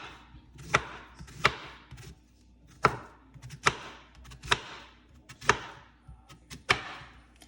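A knife chopping peeled green plantain into pieces on a board, giving eight sharp, evenly spaced close chops about one per second, with quiet pauses between them.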